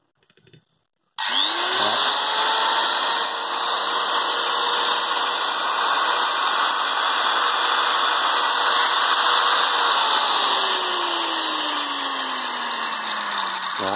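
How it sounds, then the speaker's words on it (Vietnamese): Japanese 100V handheld power tool starting with a jolt and running steadily at a loud, close whine that slowly winds down in pitch near the end. "máy thì chạy rất êm ngon nhá"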